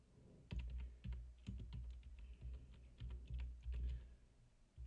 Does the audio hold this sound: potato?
no